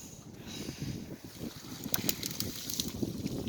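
Wind blusters across the microphone while fishing outdoors on a windy day, a continuous low rumbling buffet, with faint higher rustling and a few light clicks toward the end.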